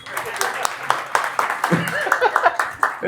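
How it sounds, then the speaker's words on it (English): Audience members at a religious lecture clap in scattered, uneven bursts, with voices and light laughter mixed in among the claps. "Clap, everybody."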